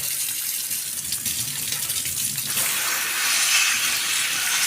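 Tap water runs steadily indoors while shower heads are washed under it, a continuous rushing gush that swells louder and brighter about halfway through.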